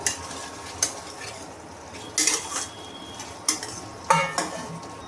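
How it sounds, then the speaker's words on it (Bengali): Fried paneer is tipped into a pan of cooked capsicum and onion for chilli paneer, giving a few sharp spoon-on-pan clanks and scrapes spaced apart over a faint sizzle. "এবার আমি পনিরটা যে ভেজে রেখে দিয়েছিলাম সেটা আমি দিয়ে দেবো"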